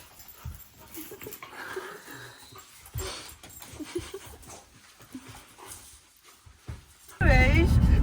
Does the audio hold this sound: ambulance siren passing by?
no